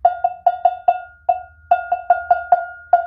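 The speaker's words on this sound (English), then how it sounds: "Part 2 is with a cowbell." A lone cowbell struck in a clear, steady rhythmic pattern of quick and longer hits, about a dozen bright metallic clanks close up, with a short pause midway and no voices.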